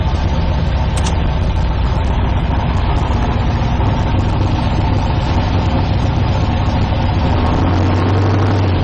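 Car engine running steadily in first gear, loud, dense and continuous at close range, with a deeper rumble swelling near the end.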